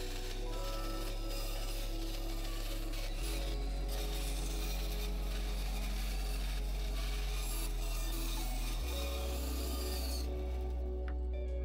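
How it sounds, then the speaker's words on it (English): A bandsaw cutting out a traced wood pattern for a walnut and epoxy coffee table, giving a steady rasping cut over a constant low motor hum for the whole stretch, loud and close. "I head to the bandsaw to cut out the pattern that I traced previously."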